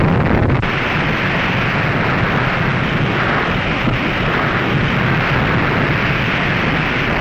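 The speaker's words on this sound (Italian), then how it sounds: "qui possiamo vedere gli effetti di un'esplosione nucleare lanciata da altri giocatori" A nuclear explosion in the video game Fallout 76: a massive, sustained rumbling roar fills the space, loud and unbroken, like the long aftermath of a huge blast.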